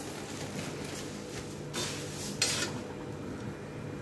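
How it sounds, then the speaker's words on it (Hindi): Puffed rice roasts in a kadhai over a gas flame while a spoon stirs it, giving a soft continuous rustle with a couple of brief scraping clinks against the metal. "कुरमुरा को लगातार चलाते हुए 5 मिनट मैंने सेक लिया है"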